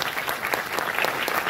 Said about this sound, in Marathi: मला वाटतं पुन्हा एकदा टाळ्या हव्यात की नाही?